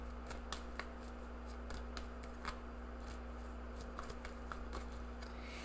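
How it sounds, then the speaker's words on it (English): Tarot cards being shuffled at a reading, with light repeated riffling clicks and snaps scattered over a steady low background hum, close but quiet. "I'm gonna shuffle again."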